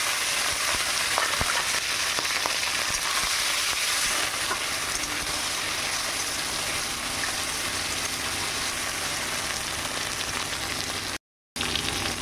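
Shrimp fry in hot oil with dry bay leaves and black cumin, giving a loud, continuous sizzle that runs almost unbroken apart from a brief cut near the end.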